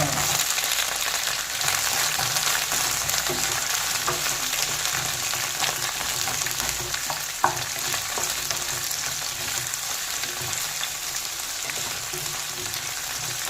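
Okra and sliced onion fry in hot coconut oil in a pan, making a steady, dense sizzle that holds throughout, with a single sharp clank from a utensil partway through and no voices.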